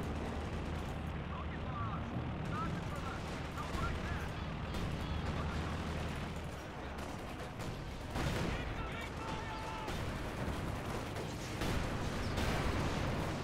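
Sector Artillery barrage pounding in Company of Heroes 2, with repeated shell impacts and gunfire rumbling at a steady, moderately loud level while someone talks over the battle.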